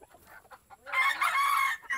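A hen on a farm with a pumpkin patch gives a short series of clucks, close and moderately loud, rising into a longer drawn-out cackle in the second half.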